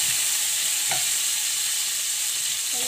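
Tomato goes into a frying pan of sautéing garlic for Filipino menudo, bringing a steady, loud sizzle with a faint stir or scrape, and no voices.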